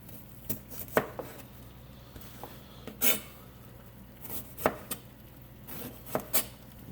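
A sharp knife chopping ingredients on a board, a handful of irregular close thuds spaced apart over a quiet kitchen background, with no voices.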